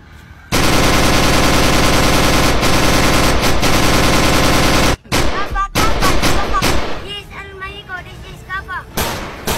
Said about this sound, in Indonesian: Aksi baku tembak antara petugas kepolisian dan kelompok perampok berlangsung 6 jam.